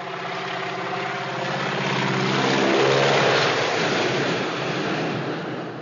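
A propeller airplane engine drones in a North by Northwest film scene, a loud, steady roar that swells as it passes closest midway and then eases slightly.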